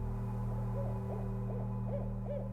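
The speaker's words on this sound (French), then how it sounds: "nous pouvons entendre la chouette rayée" Barred owl hooting in a city neighbourhood, a run of soft rising-and-falling calls repeated about five times over a steady low hum.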